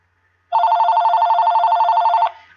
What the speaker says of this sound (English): Oh, we have a phone call.